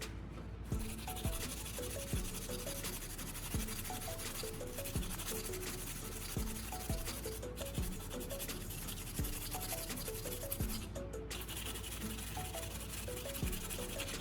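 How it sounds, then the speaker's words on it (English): A small piece of sandpaper rubs rust off a steel pruning shear blade coated in paste, giving steady, soft scraping strokes in an even rhythm, close and fairly quiet, continuous with no voices. "I'm taking a small piece of sandpaper and starting with a larger blade, I'm gently but firmly rubbing the surface."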